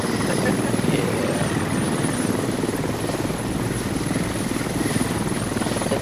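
In the video game Squad, helicopters roar loudly and continuously with a rapid rotor thump over a steady engine whine, close and overwhelming, and faint voices sit under the noise.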